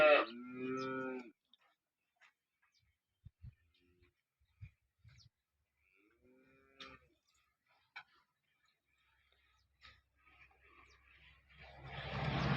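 A freshly calved cow being milked moos once at the start, followed by quiet scattered knocks and shuffling, then a rising rush of noise at the end.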